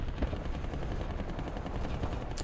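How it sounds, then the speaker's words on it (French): Small 20 mm cannons firing in the War Thunder tank game, a dense continuous rattle of rapid automatic fire mixed with battle noise, loud and steady throughout, with no talk. "des petits canons de 20 mm, je déteste ces saloperies là."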